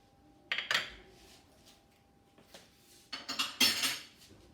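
Sliced champignon mushrooms are tipped into a pan of bolognese sauce. A few sharp clatters and scrapes of a utensil against the pan come in short clusters, close by, with quiet gaps in between and no talking.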